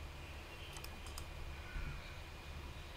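An Apple Magic Mouse 2 gives a few quick, faint left clicks close up, two small pairs of crisp ticks against a quiet background hum.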